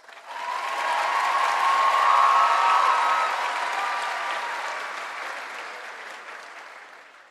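A large crowd at a high school commencement applauds a group of graduates with sustained, dense clapping that swells, holds steady and then slowly fades over several seconds, with no speech over it.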